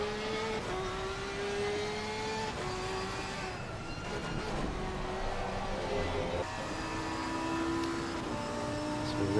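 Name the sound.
Porsche GT3 race car engine in Assetto Corsa Competizione video game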